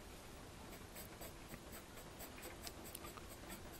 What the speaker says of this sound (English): There's no way I can actually chat away when I'm sketching.